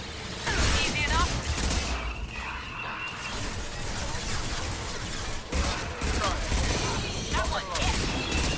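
Gunfire in the video game Mass Effect 2, scattered shots and mechanical clatter amid busy combat noise, with a voice talking over parts of it.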